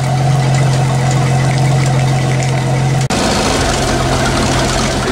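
An old boat's starboard marine engine runs steadily at a low idle during a start-up competition, a loud continuous hum with a brief dropout partway through before the drone resumes.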